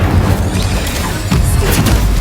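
A fire spell cast in Hogwarts Legacy, a dull booming burst with a crackling flare, loud and close over continuous game noise and rumble.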